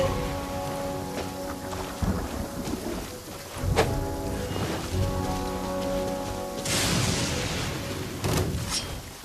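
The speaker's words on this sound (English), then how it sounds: "It always rains when I go on an adventure." Rain falls steadily with rumbling thunder, including a louder crackling burst near the end, set against a sustained tonal background sound.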